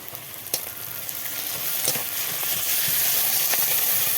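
Meat sizzles and fries in a pan with whole spices, ginger paste and garlic paste, a steady bright hiss that grows a little louder, broken by a few sharp spatters and stirring scrapes, close up with no talk.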